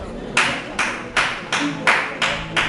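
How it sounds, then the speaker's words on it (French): A church congregation at a pastor's sermon claps in unison: six sharp, evenly spaced claps of a group, close and fairly loud, with faint room murmur beneath. "Merci pour cette acclamation-là."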